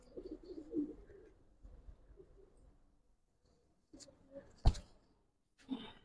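Giribaz pigeons in a loft give a few faint, low coos early on, followed by quiet stretches and a couple of sharp close clicks and rustles, with no voices.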